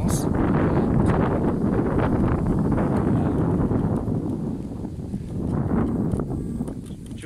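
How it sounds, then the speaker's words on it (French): Strong wind buffets the microphone almost continuously in a converted car touring the Aisne countryside in June, producing a loud rushing rumble that eases briefly midway and then returns. "Là normalement il y a beaucoup plus de vent là."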